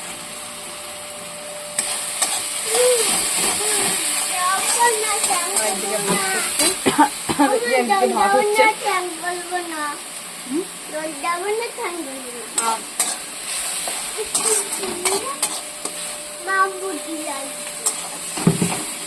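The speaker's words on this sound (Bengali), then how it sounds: "সেই যে পেঁয়াজ ভাজা হয়ে গিয়েছে, এবার মশলাটা দেওয়া হচ্ছে, আদা রসুনের পেস্ট, লঙ্কা" Onion frying with ginger garlic paste and chilli for a chicken dish hisses steadily in a pan under loud stirring clatter, while voices talk over it throughout.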